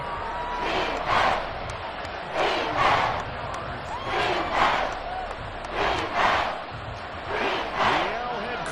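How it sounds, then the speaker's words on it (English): Arrowhead Stadium crowd roaring at a football playoff game, a dense distant wall of cheering that swells in repeated surges every second or so, loud and sustained with no individual voices standing out. "The Arrowhead crowd in full roar"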